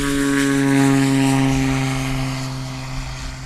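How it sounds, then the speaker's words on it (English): A Cessna 185 on a STOL practice run at Jennings, Louisiana, drones with a steady propeller-engine hum, loud and close, its tone holding then slowly easing away with no talk. "This year, a different aircraft form, a Cessna 185."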